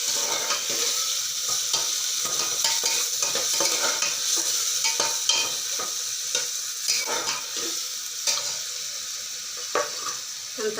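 An onion, tomato, garlic, coconut and cumin paste fries in hot oil for stuffed brinjal masala, giving a steady close sizzle broken by frequent clinks and scrapes of stirring, with no talk.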